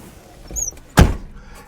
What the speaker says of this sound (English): Close my door so I can turn on the key